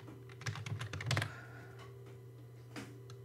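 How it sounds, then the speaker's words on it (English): Several quick keystrokes on a computer keyboard typing a place name into a townland etymology entry, a short clustered burst of clicks up close, then a lone tap after a pause, with a steady low hum underneath and no talking. "I'll just type in ring fort"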